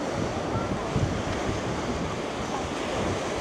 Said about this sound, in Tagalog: nakikita nyo napakalakas ng alon pero walang nagsisurf